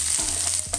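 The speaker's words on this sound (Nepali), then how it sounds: "प्याज, हामीले अलिकति ब्राउन ब्राउन हुने गरेर यो प्याजलाई पनि भुट्ने।" Onions frying in a pan until brown crackle and sizzle steadily, with a couple of quick stirring scrapes, close and brief with no talking.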